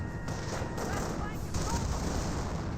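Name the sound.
gunfire in video game Company of Heroes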